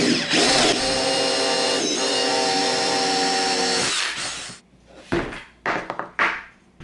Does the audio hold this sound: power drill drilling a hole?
yes